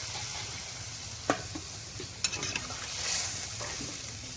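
Fish curry sizzles steadily in a frying pan, with a few sharp clinks and stirring bumps from a utensil and a brief hiss as water goes in.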